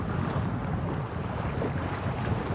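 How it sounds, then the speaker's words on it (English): A small dinghy heads toward shore over open water, a steady low motor and water rush mixed with heavy wind buffeting the microphone. "we hopped in the dinghy and headed to shore"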